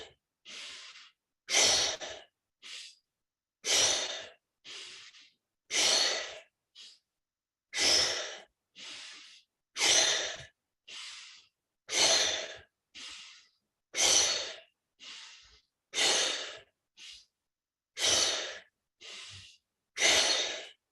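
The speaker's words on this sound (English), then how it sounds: "Breathe in, out." Slow, deep guided breaths during a wellness practice session, each inhale and exhale a long, clear, close rush of air in a steady repeating rhythm, about ten cycles with short pauses between them and no talking.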